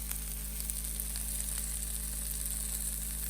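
Freshly baked pizza cupcakes just out of the oven give off a faint, steady sizzle, a soft hiss over a low background hum.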